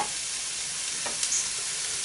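Mushrooms fry in a pan for jägerschnitzel hunter sauce, giving a continuous close sizzle while a utensil stirs them with a soft scrape, no talking.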